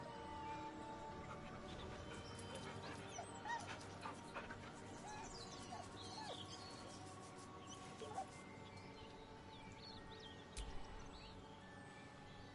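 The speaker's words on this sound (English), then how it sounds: "The dog whimpers nervously" A dog in a video game whimpering nervously, soft high whines and faint yips repeating over a quiet steady background hum, with occasional small shuffling sounds.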